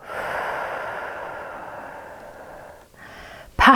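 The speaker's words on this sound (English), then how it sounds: "Passively slow down that exhalation." A slow, steady exhalation during a trauma-informed breathing exercise, a soft airy breath that gradually fades over a few seconds before a short sharper breath at the end.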